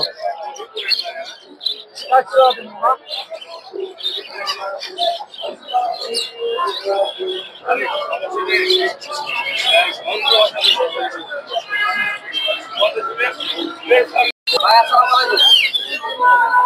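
Budgerigars sold in pairs at the Tongi bird market chirp and twitter in a busy, continuous chorus, with someone talking over the birds.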